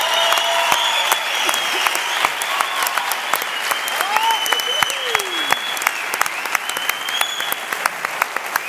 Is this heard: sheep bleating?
no